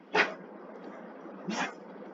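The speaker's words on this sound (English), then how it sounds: "sorry, that was my dog sneezing." Two short, sharp sneezes from a small dog, spaced about a second apart, over a quiet background hiss.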